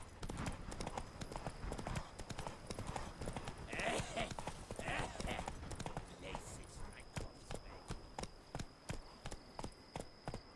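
Horse hooves clip-clop at a steady walking rhythm in The Witcher 3, with game ambience and occasional voices underneath, the regular hoofbeats growing clearer and evenly spaced toward the end.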